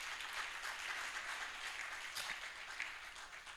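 Audience at a national banking and ethics conference clapping, a steady faint wash of applause from a large hall with no voices over it.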